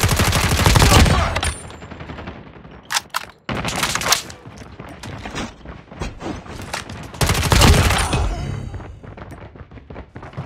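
Heavy gunfire in Call of Duty Mobile multiplayer, long loud automatic bursts and barrages at close range, broken by a short pause and a renewed intense volley.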